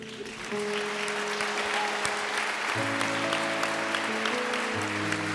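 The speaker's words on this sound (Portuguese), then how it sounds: "Aplauda o nome do Senhor Jesus de verdade." A church congregation claps during a live worship service, making dense, continuous applause that carries through the room while sustained keyboard chords play underneath and change pitch partway through.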